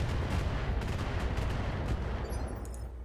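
AC5 autocannon fire in the mech combat game BattleTech, a dense, loud, low rumbling barrage of rapid booming shots that rolls on steadily with no talk over it.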